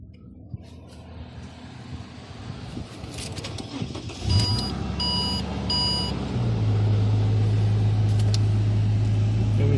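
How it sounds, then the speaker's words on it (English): A Ford Falcon XR6 Turbo BA cranks and starts after an ignition switch repair, then settles into a steady, loud, low idle that carries on to the end. "Yeah, we'll just start the car."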